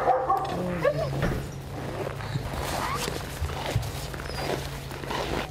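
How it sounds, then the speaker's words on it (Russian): Police service shepherd dogs bark and whimper at a kennel, intermittent yips and barks mixed with footsteps and outdoor noise at moderate distance, under people talking. "Чтобы конвойные овчарки или собаки специального назначения хорошо работали, их надо вовремя и хорошо накормить и постоянно дрессировать."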